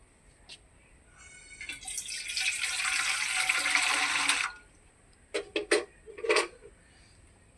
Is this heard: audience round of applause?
no